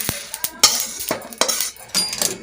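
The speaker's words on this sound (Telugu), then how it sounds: "అన్ని జీలకర్ర, ధనియాలు, పప్పులు చటపట వచ్చే వరకు ఎంచాలి" Cumin, coriander seeds and lentils dry-roast in a pan without oil, with a spoon scraping and clinking against the metal in several sharp, close strokes and faint crackles between them.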